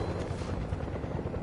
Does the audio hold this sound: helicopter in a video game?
yes